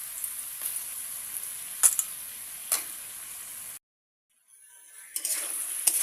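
Potatoes go into a pan of fried spice paste and sizzle steadily, a bright close frying hiss with occasional clinks of a spoon against the pan, cutting out briefly before the sizzle returns.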